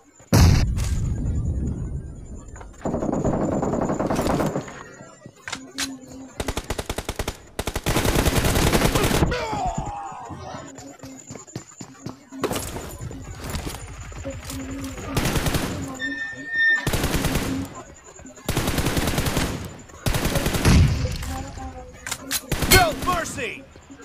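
Video game gunfire in a team deathmatch comes in repeated loud bursts of automatic fire and single shots, with quiet gaps between them and occasional voices calling out.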